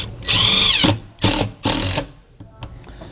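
A power drill drives a mounting screw while an enclosure for a Redarc RedVision vehicle management system is fitted, with three loud whirring bursts and a fainter final spin, close by with no talk.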